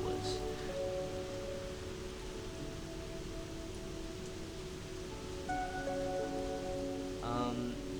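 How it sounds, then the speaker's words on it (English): Steady rain falling outdoors, a soft continuous hiss throughout, with faint tonal hum and a brief chirp near the end. "It's raining."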